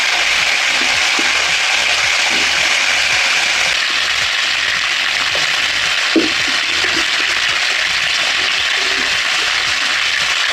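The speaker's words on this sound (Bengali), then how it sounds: "তেলে আমি সবজিগুলো সব দিয়ে দিয়েছি এবার ভাজা ভাজা করবো" Mixed vegetables frying in hot oil for a winter fish curry make a loud, dense, continuous sizzle close by, with occasional soft stirring knocks and scrapes under the steady crackle and no talk.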